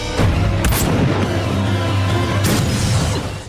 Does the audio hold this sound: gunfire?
yes